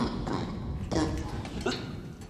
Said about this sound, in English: Frank looks extremely weak and is coughing violently from the cold